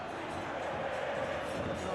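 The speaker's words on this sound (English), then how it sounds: "Crowd calling for him to shoot." Simulated stadium crowd in the football video game PES 21 during a River Plate versus Belgrano match, a steady broad roar of chanting fans held at even loudness for the whole stretch, with no distinct peaks.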